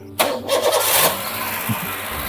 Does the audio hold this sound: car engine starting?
yes